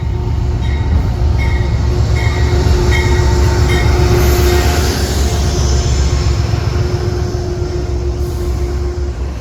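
A Metro-North commuter train on the Harlem line roars past close by, a loud continuous rumble of wheels and railcars with a steady electric hum and brief squealing notes, no voices.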